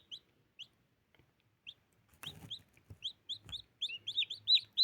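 Newly hatched chicks, still wet, peeping in high repeated chirps that grow louder and more frequent, close by, with a brief rustle partway through; the broody hen is not clearly heard.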